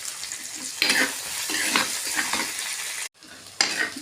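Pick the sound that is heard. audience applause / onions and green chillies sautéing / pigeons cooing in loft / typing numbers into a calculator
onions and green chillies sautéing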